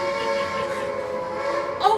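A stage play's train-arrival sound effect, a sustained tonal rumble with a whistle-like hum holding steady, fairly loud and continuous throughout.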